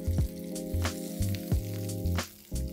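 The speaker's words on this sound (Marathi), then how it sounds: "आता आपण हे शॅलो फ्राय करून घेऊ." Khichdi cutlets shallow frying in hot oil, with a steady sizzle punctuated by several sharp pops and crackles recurring at short intervals, close and fairly loud with no voices.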